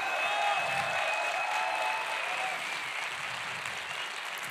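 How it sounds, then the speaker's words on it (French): Audience at the closing awards night of the 30th International Fantastic Film Festival applauding the festival volunteers, a steady, moderately loud wash of clapping from a crowd that carries on without a break. "les bénévoles, que vous pouvez applaudir"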